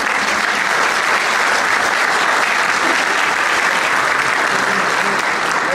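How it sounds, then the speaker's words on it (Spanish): Steady, loud applause fills a hall at the presentation of the 100th edition of the magazine El Foro, continuing without a break. "Saludamos con un fuerte aplauso la edición número 100 de la revista del Foro"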